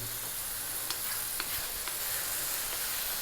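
Tomatoes and fresh green chili frying in a hot pan for a Bengali river-style carp curry, giving a steady close sizzle with a few faint stirring taps and no talk.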